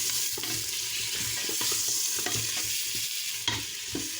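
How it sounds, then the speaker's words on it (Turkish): Bone-in meat for madımak is stirred in a hot pan, steady scraping and shuffling turns over a continuous loud sizzle of frying, with no talking. "Şöyle bir iki tur karıştıralım."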